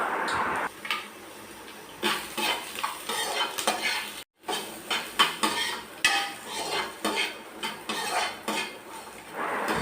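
Garlic and coconut pieces sautéing in a kadai, steady sizzle with frequent clinks and scrapes of a spoon against the pan, close and continuous.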